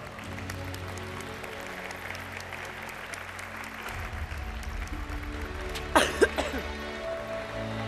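Faint, distant audience applause at a carnival queen election gala in Los Realejos, a soft patter under a low hum, with a brief louder burst near the end.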